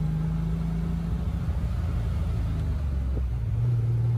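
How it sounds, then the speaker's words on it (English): A Triumph TR6's engine drones steadily from inside the moving car in Wailea, a low continuous rumble with a slight rise in pitch near the end. "we're driving in the Triumph TR6"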